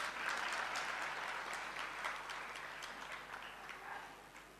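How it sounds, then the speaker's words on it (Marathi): Applause from an audience at the closing session of a lecture series, a dense burst of clapping that starts strong and slowly thins out over a few seconds. "टाळ्या वाजवा, टाळ्या"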